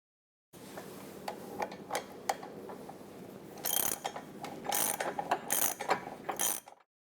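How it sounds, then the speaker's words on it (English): A Cursor 10/13 unit-injected diesel engine is rotated clockwise by hand with a tool, giving sharp, irregular ratcheting clicks and metallic mechanical clatter, close and fairly quiet, growing denser toward the end with no talking. "So we're going to turn the engine clockwise in order to achieve that."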